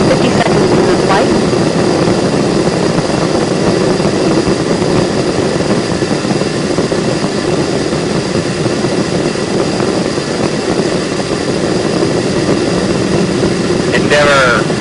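Space Shuttle Endeavour's main engines roar during launch, a dense, continuous rumble that holds loud and unbroken throughout, with broadcast voices over it.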